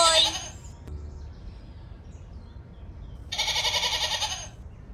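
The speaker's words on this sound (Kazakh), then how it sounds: "Ешкі." A goat gives two bleats, a short one at the start and a longer, louder wavering call near the end, with quiet background between them.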